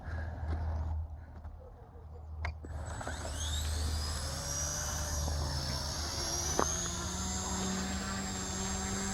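The high, buzzing whine of an RC micro helicopter's motor close by, its pitch rising and wavering as it flies, with a brief faint knock.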